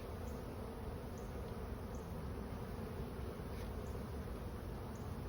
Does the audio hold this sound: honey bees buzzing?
yes